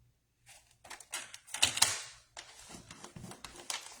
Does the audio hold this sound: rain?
no